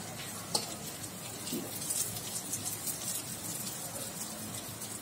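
Shiuli (night jasmine) leaves frying in oil give a steady, close crackling sizzle with fine scattered pops throughout, and one sharper pop near the start.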